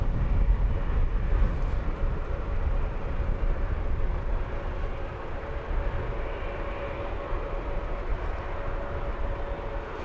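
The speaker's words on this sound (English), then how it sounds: "The Wizz Air on your screens, A321neo with that lovely bandit mask cockpit windows. That's off to Sofia." Wizz Air Airbus A321neo airliner departing London Luton Airport for Sofia, a steady distant jet engine roar that swells slightly at the start then holds as a broad low rumble, with no voices.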